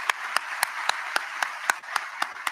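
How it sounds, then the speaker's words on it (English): Applause at a graduation and awards ceremony sounds as a thin, evenly spaced series of about ten sharp claps, close and distinct, with no talk over them. "Give her a round of applause."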